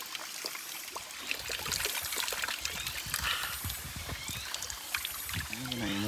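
Water trickles and splashes in a cold forest stream, a busy, close burble with scattered drips, heard under occasional talk and movement nearby.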